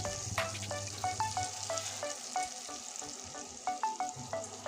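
Cubed taro sautéing in a hot pan with salt and turmeric, a continuous sizzle and crackle broken by frequent clinks of a spoon against the pan as the pieces are stirred.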